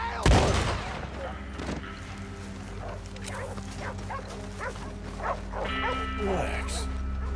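Dogs bark repeatedly in Red Dead Redemption 2, several sharp barks and yips scattered across a busy outdoor game scene with a burst of gunfire near the start and brief speech over a low steady hum.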